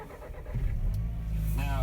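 A Skoda Octavia engine starts in cold weather at about minus 12: a low cranking rumble catches into a steady idle near the car, while a person talks over it.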